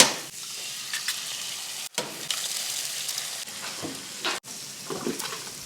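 Mushrooms frying on a cast iron pan outdoors, a continuous bright sizzle broken by a couple of abrupt cuts, with tongs shifting the food now and then.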